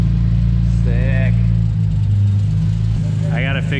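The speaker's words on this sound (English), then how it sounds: "I gotta fix whatever bolts rattling" Car engine droning steadily while driving, with a loose exhaust bolt rattling underneath; the low hum stays loud throughout as people talk briefly over it.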